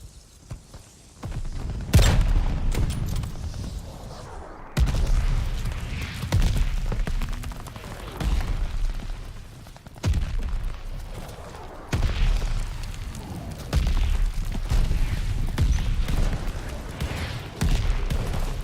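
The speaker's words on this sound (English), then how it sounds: "Allies calling a mortar barrage." Mortar barrage explosions in Call of Duty Vanguard, a run of loud booms and thuds that keep rumbling and crackling in repeated bursts over a sustained battle din, with no talk.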